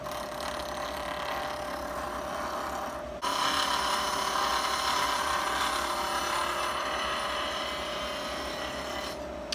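A high-speed steel wood-turning scraper is ground on a wheel, making a continuous loud rasping grind that intensifies partway through and carries on steadily.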